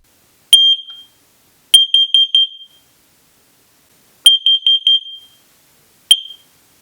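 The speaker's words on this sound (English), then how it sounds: "when I test the device, it is going to emit 2 sets of 4 quick beeps" An X-Sense carbon monoxide detector under test gives loud, high-pitched electronic beeps in two sets of four quick pulses, separated by silent gaps. The sound is close and clear, with no other sound.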